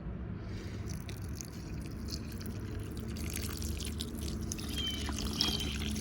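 Water poured from a container onto a small potted plant, a steady close trickle and splash lasting several seconds at a moderate level, with no speech.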